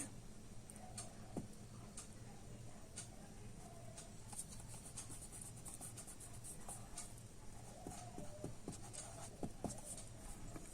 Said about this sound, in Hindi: तब हम इसका नाम लिख देते हैं